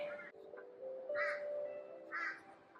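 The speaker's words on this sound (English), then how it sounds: "Sorry about the crows, they've decided that they're gonna get rowdy" Crows caw outdoors on a Sunday, with two distinct caws in the distance, fairly faint, rising over a steady background hum and no speech in between.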